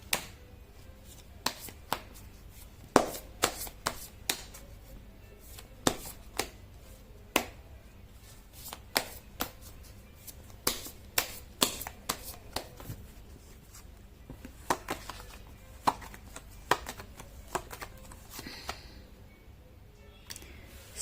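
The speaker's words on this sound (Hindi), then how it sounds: "कर लेती हूँ कार्ड की शफलिंग" Tarot cards being shuffled by hand, a long run of sharp irregular card snaps and slaps at close range, with quieter rustling between them.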